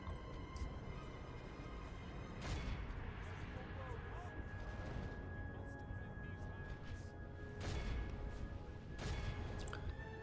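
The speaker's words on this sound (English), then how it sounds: "it's probably time to stop shooting with the artillery now" Artillery fire in the strategy game Third Age: Divide and Conquer, a couple of sharp booming shots standing out over a dense, rumbling battle backdrop.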